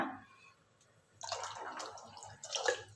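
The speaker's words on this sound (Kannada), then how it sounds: "ಅದಕ್ಕೆ ನಾವು ಇನ್ನೂ ಸ್ವಲ್ಪ ನೀರು ಹಾಕ್ಕೊಳ್ಳೋಣ" Water trickles and splashes into a thick aloo-peas masala curry mixture in short bursts, fairly close, with a brief louder splash near the end.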